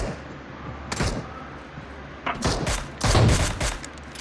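Machine gun fire in the PUBG video game, an M7-MG3 style weapon, heard as several short, fairly distant bursts of rapid shots over a steady background hum.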